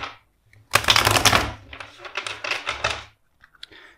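Tarot cards are riffled in a fast, crisp flurry, followed by several softer shuffling bursts and a brief final rustle, close and clear with no talking.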